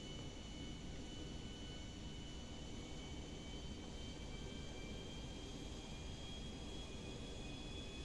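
Jet aircraft in a video game heist, a broad continuous engine roar with a thin high whine, steady and sustained over several seconds at low level with no talk.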